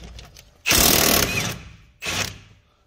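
An impact wrench taking 22 mm strut nuts off the front suspension of a 2014 Toyota Venza during a wheel bearing job, heard as two loud buzzing bursts, the first longer, close up in a quiet garage.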